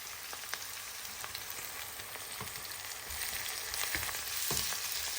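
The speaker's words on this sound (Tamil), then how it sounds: "சாதுவாக அந்த வெங்காயத்தை வாட்டின பிறகு நாங்கள் எண்ணெயை விடுவோம்." Onion, garlic and green chili frying in oil, a steady close sizzle with faint stirring scrapes, growing slightly louder toward the end, no voices.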